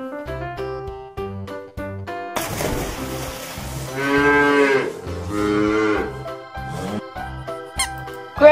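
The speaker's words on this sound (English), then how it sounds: "Cow." A cow moos in two drawn-out lowing calls in the middle, framed by plinking toy-piano or xylophone notes, with a short squeak near the end and no talking.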